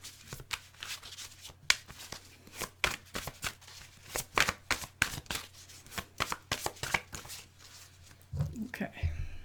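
Tarot cards are shuffled and laid down during a monthly soulmate reading, giving many quick, crisp papery flicks and slaps in an irregular stream, close to the microphone, ending with a soft rustle and thump.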